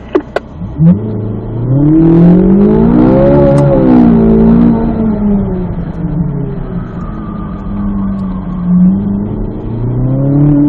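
A Chevrolet Corvette Z06 on an autocross course accelerates hard, its engine note climbing and falling steadily through shifts and corners, loud and close throughout with no talking.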